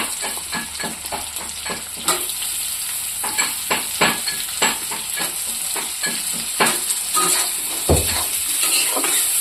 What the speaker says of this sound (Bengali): আমি এখানে কাটা রাখা আলুটা দিয়ে দেবো। পেঁয়াজের সাথে আরও ভাজবো।